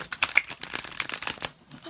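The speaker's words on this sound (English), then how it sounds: "So let's get a good shuffle on them." A deck of tarot cards is riffled and shuffled, the cards having a noticeable bend yet good stiffness, giving a close, dry burst of rapid flutters and clicks that fade out near the end.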